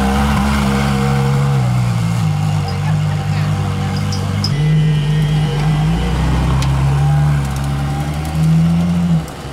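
A Ferrari LaFerrari supercar drives away at a car park during a supercar week gathering, its engine droning loud and close with shifting revs that swell near the end.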